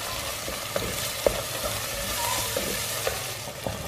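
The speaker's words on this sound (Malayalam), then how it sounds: "മസാല വേപ്പിലയും കൂടി ഇട്ട് കൊടുത്തു." Masala and curry leaves fry in hot oil in a pan for a pearl spot fish mappas curry, giving a steady close sizzle broken by several sharp scraping clicks as the mixture is stirred.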